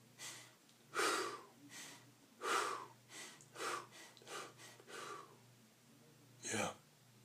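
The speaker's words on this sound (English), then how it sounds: "And breathe." A person breathes slowly and audibly while holding a posture exercise, leaning back as if reaching the head toward the wall behind; several deep breaths come close and fairly loud, with a sharper gasp near the end.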